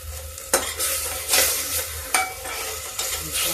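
Tomato puree sizzling and frying in a pan with cooked garlic paste, with stirring scrapes and clinks of a spoon against the pan at steady intervals, close and fairly loud throughout, no talking.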